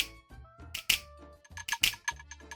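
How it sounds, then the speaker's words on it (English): Finger snaps in a slap house drum loop: sharp bright cracks falling roughly once a second over a deep, pulsing bass line and softer ticking percussion. "Some snaps."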